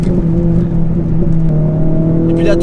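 A Renault Clio 3 RS engine pulls hard in third gear, a loud, rising whine and roar heard from inside the car, steadily climbing in pitch as it revs.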